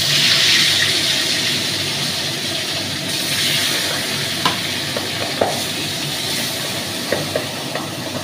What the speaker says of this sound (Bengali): এবার মা মাছগুলো কড়াই দিয়ে দেবে একটা একটা করে।